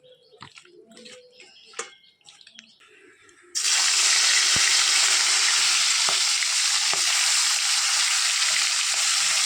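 Singi catfish rubbed with salt and turmeric hits hot white oil in a home kitchen, bursting into loud, steady sizzling frying that continues without a break, after a few earlier clinks and soft handling sounds.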